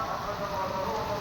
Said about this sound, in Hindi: ये बारिश बहुत ज़्यादा तेज़ हो गई है